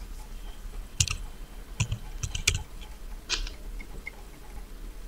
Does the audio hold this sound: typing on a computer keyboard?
yes